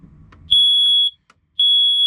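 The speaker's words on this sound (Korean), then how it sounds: "일산화탄소 감지기 뭐 체크 이게 잘 되는지 안 되는지는 그냥 눌러보면 돼요" A carbon monoxide detector, pressed to test it inside a caravan, gives a piercing high electronic beep, sounding twice in quick succession after a little handling noise, loud and close.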